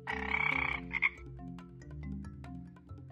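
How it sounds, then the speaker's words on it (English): A frog croaks loudly and close over soft background music in a children's animal-names learning game, with a brief second croak burst following the first. "Frog."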